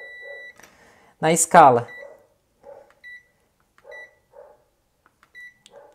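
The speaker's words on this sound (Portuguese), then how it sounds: "eu posso vir aqui na escala de BIP e encostar as pontas, que vai apitar" A digital multimeter set to continuity gives short, high electronic beeps as its probes touch an inductor coil. The beeps sound around someone speaking Portuguese, who talks loudly for a moment partway through.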